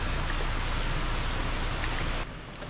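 Torrential monsoon rain pours down in the Tadoba Andhari forest area, a dense, loud, hissing downpour that holds steady, then drops sharply in level near the end.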